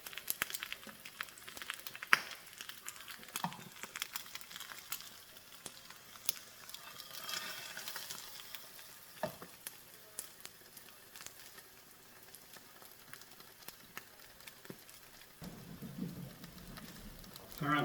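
An egg fries in a pan over a DIY stove with a live fire, giving a soft, continuous crackling sizzle with scattered pops and snaps, faint and close, with occasional rustling and handling noises.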